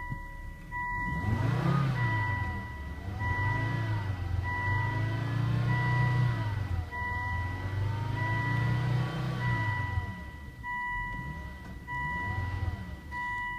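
A 2002 Volvo S60 with the B5244S 2.4-litre engine runs steadily at idle on a test stand, a smooth continuous drone with a faint rise and fall in pitch and a high tonal whine over it.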